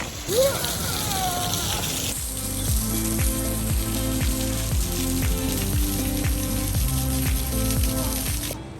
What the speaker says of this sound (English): Got a cheeky little waterfall here.